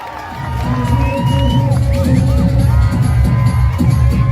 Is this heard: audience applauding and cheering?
yes